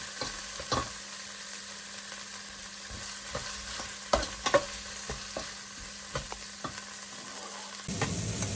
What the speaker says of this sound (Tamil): இப்போ வெங்காயம் ஓரளவு வதங்கி வந்துட்டு